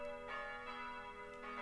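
Church bells in the village of Nunspeet ring with a sustained metallic hum, three soft repeated strikes recurring over steady ringing tones, somewhat distant and without voices.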